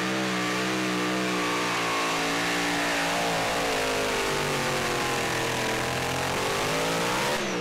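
Unlimited super stock pulling tractor engine roaring under heavy load at a Saluda, South Carolina pull, a loud sustained high-revving howl with pitch slowly shifting as the RPMs get dragged down, no talk over it.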